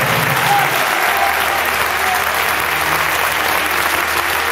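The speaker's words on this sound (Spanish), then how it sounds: "Dale un aplauso al Rey." A church congregation applauds during a worship service, a steady, loud wash of many hands clapping that holds evenly throughout.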